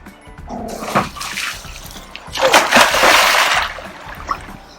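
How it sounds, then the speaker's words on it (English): A person slides into a backyard pool on a summer day, throwing up a rushing burst of splashing water that swells and sloshes for a couple of seconds, with a smaller splash before it. "You need to get a good running start so you can get a fast slide into your pool."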